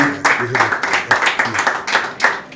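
A church congregation claps in a steady rhythm during a worship service, in sharp bursts about twice a second, with voices faintly underneath.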